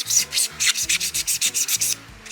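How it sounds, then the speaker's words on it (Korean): Rhythmic sandpaper strokes scrub against a hard plastic model kit surface, about a dozen quick back-and-forth rubs, close and steady, then fading out. "패널 라인 작업했던 데도 똑같이 사포질을 해야 됩니다."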